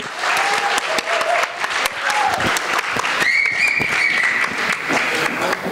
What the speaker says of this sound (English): A big round of applause for everyone here.